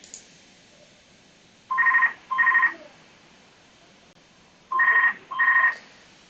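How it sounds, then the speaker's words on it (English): An indoor telephone rings in two pairs of crisp electronic trill bursts, evenly spaced with quiet gaps, close and clear with no talk. "Please excuse the phone ringing."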